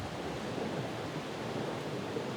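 Steady wind roaring past at a lakefront campsite on Vancouver Island's west coast, a continuous broadband rush with no pauses, close and fairly strong throughout.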